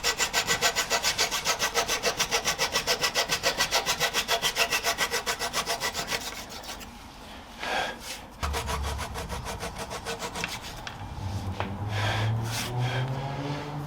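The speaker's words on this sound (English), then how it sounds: "Trim off the excess length of these tapered tenons." A hand saw trims the excess length off wooden tapered tenons for slab coffee table legs, with fast, steady, close strokes at first, then slower, irregular rasping and scraping of wood.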